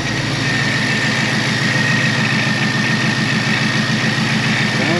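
An e85-tuned, pulley-down ESS supercharged 2021 Ford Mustang Mach 1 idles under the hood, a loud steady rumble with a fast even pulse and a constant whine, with no talk over it.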